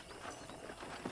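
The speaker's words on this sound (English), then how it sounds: "let's see if you can still ride a horse" Horse hooves clip-clopping in the video game Red Dead Redemption, a few faint, muffled hoof falls over a dense ambient background, with no voices.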